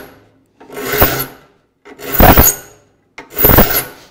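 Three separate strokes of a file rasping across the teeth of a rip hand saw during sharpening, each a loud, close, gritty scrape lasting about a second, with short silent gaps between them.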